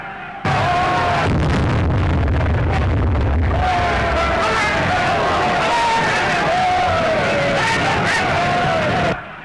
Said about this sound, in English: The crowd outside are in a terrible state of excitement.